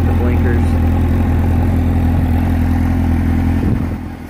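A 2004 Suzuki GSX-R 750 sport bike runs loud and close with a steady, rumbling engine note that holds evenly before tapering off at the end; a voice speaks briefly over it.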